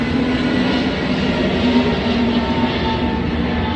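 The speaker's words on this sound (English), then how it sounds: "wait for this plane to go by here real quick." A steady, loud broadband roar of a plane passing overhead fills the whole stretch without fading, a continuous rumbling wash with no distinct events or speech.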